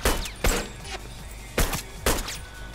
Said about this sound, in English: Oh, that was terrible shooting, man.